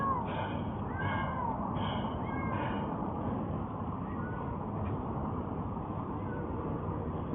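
A male cat meows several times in quick succession early on, then fades out under a constant, loud background rumble.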